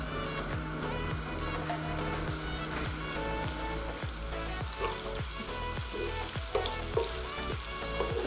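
Chopped onion with fennel seeds fries in hot oil for a spicy masala prawn dish, a steady loud sizzle running throughout with repeated stirring scrapes and clinks of a spoon against the pan.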